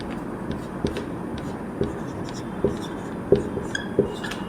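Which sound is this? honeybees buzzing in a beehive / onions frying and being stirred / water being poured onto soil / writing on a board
writing on a board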